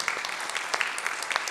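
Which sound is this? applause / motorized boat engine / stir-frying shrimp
applause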